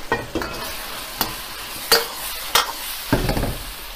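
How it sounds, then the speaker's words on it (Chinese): Fried pork balls are stirred and tossed in a wok with thickened sweet-sour cherry pork sauce: a low steady sizzle broken by several sharp spatula scrapes and clacks against the pan, close and alone. "加入一点果脯，快速的翻煮好，芡汁裹拌均匀以后"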